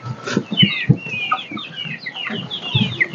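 Several Brahma chickens on a farm in Sirajganj, Bangladesh cluck and chirp in quick, overlapping bursts, close and fairly loud, with no talking.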